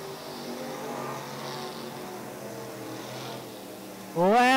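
Modified street race cars in a feature race at Tennessee National Raceway: a steady, distant engine drone from the field, then one car's engine roars up loudly and rises in pitch as it passes close.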